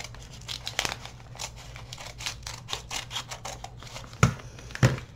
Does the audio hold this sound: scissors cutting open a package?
yes